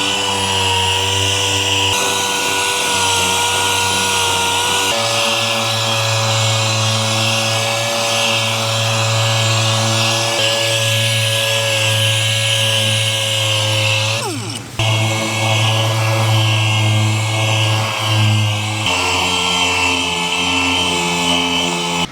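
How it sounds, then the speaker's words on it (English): Steady, loud machine drone of dry sanding a car body panel with 400 grit paper on a soft interface pad, on a Holden Torana being repainted, running continuously with a brief dip in pitch near the middle. "I'm gonna dry sand the top first with my 400 on the soft interface"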